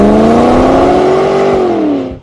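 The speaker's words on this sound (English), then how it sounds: "Good old combustion engine. Just that sound, that vibration, that raw power" Combustion engine of a Volvo XC90 hybrid revving loudly and close, a continuous rising then falling roar that fades out at the end.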